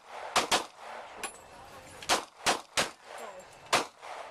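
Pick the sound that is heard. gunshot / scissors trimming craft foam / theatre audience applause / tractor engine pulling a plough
gunshot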